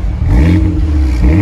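A car engine revs loudly up close, its deep droning pitch rising and falling through a sustained rev and climbing again at the end.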